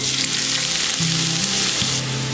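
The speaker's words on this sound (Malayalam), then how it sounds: "ഇനി നമുക്കിതിലേക്ക് ഒരു വലിയ സവാള ചെറുതായി കുഞ്ഞായി അരിഞ്ഞത് വെച്ചിട്ടുണ്ട്, അതും കൂടെ ചേർത്തിട്ട് ഒന്ന് വഴറ്റിയെടുക്കാം." Finely chopped large onion sautéing in hot oil on high flame for egg kebabs, a loud, steady hiss and crackle close by with a faint stirring scrape, no talk.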